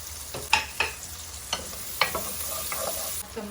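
Garlic and onion sizzle in hot oil in a pan while a utensil stirs and scrapes in sharp bursts over a steady frying hiss, heard close with no talking.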